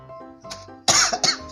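A person gives a short, sharp cough, close and loud, with a few faint vocal sounds just before it.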